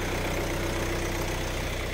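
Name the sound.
Kia Carens 2017 diesel engine idling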